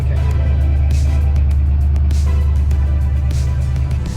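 Toyota Century being driven: a steady, loud low engine and road drone with broadband cabin noise holds evenly throughout, without talk.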